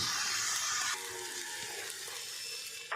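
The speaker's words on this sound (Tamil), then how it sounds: "வதங்கிட்டு இருக்குது." Tamarind and other ingredients sizzle steadily as they are sautéed in a pan for piradai dosai batter, a continuous close frying hiss that runs throughout without talk.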